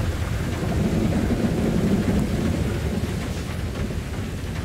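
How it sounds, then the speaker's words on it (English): Heavy rumbling thunder rolls continuously with steady rain noise, a loud, dense low roar that barely lets up, during a thunderstorm in Grand Theft Auto V. "I love how the thunder is louder than like any car exhaust in the game."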